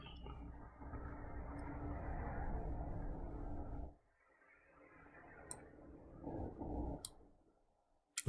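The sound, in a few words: typing on a keyboard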